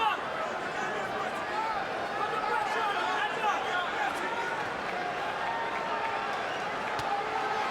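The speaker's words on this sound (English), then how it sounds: "Boy, the crowd, you can hear the buzz." Boxing arena crowd keeps up a steady, dense buzz of murmuring and chatter throughout, with no standout cheers or claps, just a continuous hubbub filling the hall.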